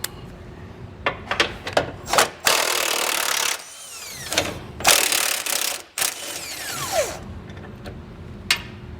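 Loud close impact wrench bursts and ratcheting clicks while removing 21 mm bolts beneath a 2020 Ford F-150, several long buzzing runs separated by sharp metallic ticks, no voices.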